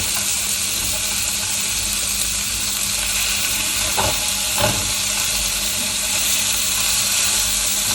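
Meat sizzling in a stainless steel frying pan, a steady broadband hiss with a few brief louder crackles partway through, close and continuous with no talk.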